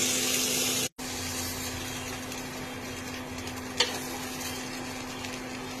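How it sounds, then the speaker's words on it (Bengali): Paneer cubes frying in a little ghee on a tawa: a steady, close sizzling hiss with a faint hum beneath, cut by a brief dropout near the start, and a couple of light clicks later. "জাস্ট কয়েকটা পনিরের কিউবস এরকমভাবে ফ্রাই করে নিলাম।"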